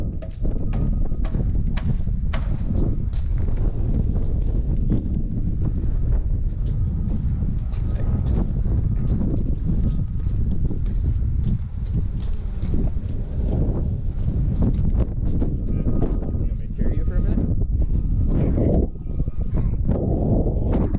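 Strong wind gusts buffet the microphone outdoors at the U.P. 200 sled dog race, a constant loud low rumble lasting throughout with no talk.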